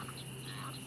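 Small frogs, including a tiny banjo frog, calling at dusk, heard as a steady, insect-like chorus with a continuous drone and scattered chirps throughout, moderately loud with no talking.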